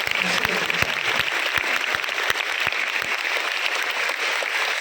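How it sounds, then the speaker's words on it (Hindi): Clapping from an audience at a talk honouring a sage, a dense wash of hands with a few sharper distinct claps standing out, steady and moderately loud throughout. "जब ताली बजाओ ना तो तालियां भी वैसी होनी चाहिए जैसा जोश मेरे अंदर देख रहे हो ना"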